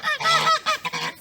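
Several loud, close geese honk in a quick, overlapping burst of harsh, nasal calls.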